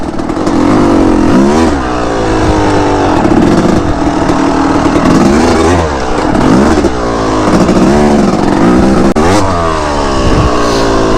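A dirt bike engine revs loudly and close while riding, rising and falling through repeated throttle surges and gear changes, with wind buffeting the microphone.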